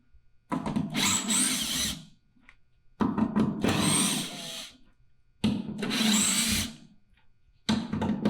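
A power drill backs screws out of a wooden platform in four separate close, loud whirring bursts, with short quiet pauses between them.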